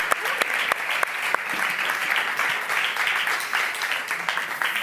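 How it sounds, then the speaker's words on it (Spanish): A studio audience at a comedy talk show breaks into dense, sustained applause, loud and close, with sharp individual claps standing out and voices faintly underneath. "aquest aplaudiment és per tu"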